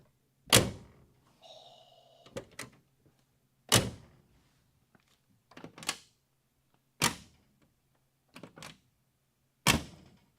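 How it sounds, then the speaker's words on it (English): Several heavy car doors slam shut one after another, each a solid thunk with a short rattle, spaced a second or two apart against a quiet background with a low hum. "Now that's a door."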